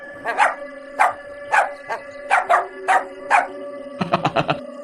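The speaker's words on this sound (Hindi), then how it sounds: "चुड़ैल को देखकर भौंकने लगता है।" A dog barks repeatedly at close range, about eight separate barks, then a quick burst of rapid yips at the end.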